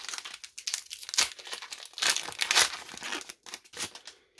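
A thick Pokémon Flammes Obsidiennes booster pack being torn open, with bursts of crinkling, crackling foil wrapper and tearing plastic up close, loud and irregular throughout, no voices.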